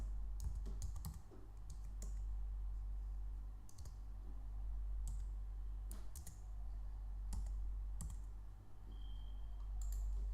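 Quiet keystrokes on a Mac computer keyboard, irregular clusters of clicks typed at a moderate pace against a low steady hum, with no talking.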